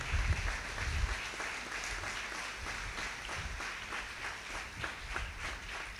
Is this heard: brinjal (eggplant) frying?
no